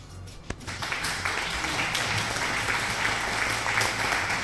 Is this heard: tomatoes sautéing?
no